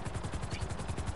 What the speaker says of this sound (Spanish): Y justo podemos aterrizar el helicóptero.